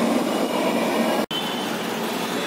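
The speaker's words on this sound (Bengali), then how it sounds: "মেট্রো স্টেশনে আছি আর মেট্রো ঢুকে গেছে" A metro train pulls into an underground station with a loud, continuous rumble and rolling wheel noise close by, broken once by a brief gap before the roar carries on.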